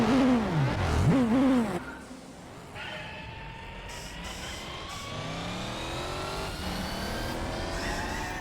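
Race cars in Gran Turismo 4 launching off the start line, one engine screaming up and down through revs before a sustained, rising multi-car engine whine builds steadily and loudly.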